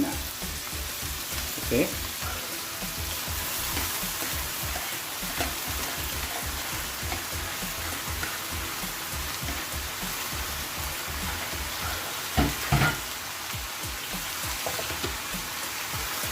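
Taro leaves go into a pan while cooking laing, setting off a steady, crackling sizzle with a few clattering stirs and knocks; one brief spoken word is heard.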